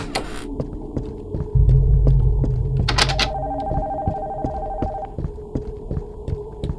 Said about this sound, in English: Why does the abandoned house have an active phone?